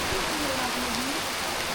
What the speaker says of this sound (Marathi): पाऊस बघा कसा दणक्यात सुरुवात झाल्या पावसाला